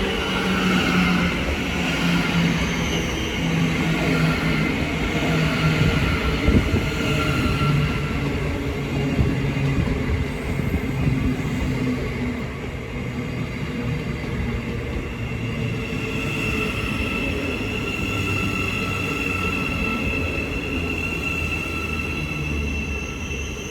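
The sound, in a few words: Thameslink class 700 train, Brighton to Cambridge service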